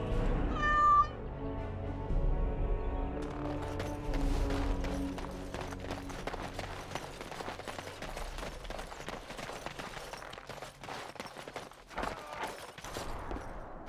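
A cat in the video game Dragon Age Awakening gives a clear meow near the start, followed by a long run of sharp clicking and clattering game sounds.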